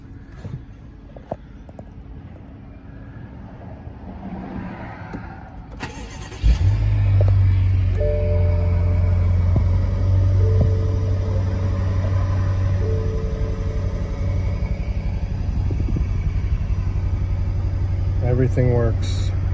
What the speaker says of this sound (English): Let's start the car up for you.